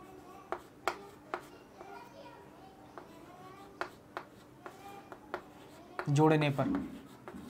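Pen or chalk writing out an equation for a Class 10 maths lesson on linear equations in two variables, short scratchy strokes in an irregular rhythm, with a voice speaking over the end.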